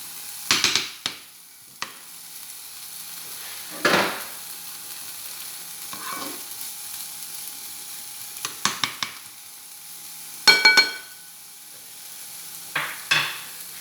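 Lardons frying in a pan for oeufs en meurette give a steady close sizzle, broken by a few sharp scraping and clattering bursts as they are stirred, with no talking.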